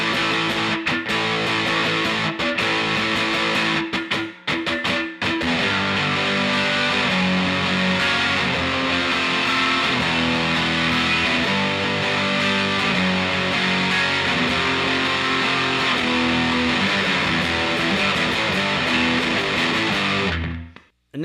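Heavily distorted electric guitar playing the bridge of a song, a dense, loud, continuous riff with a descending note pattern that stops abruptly at the end.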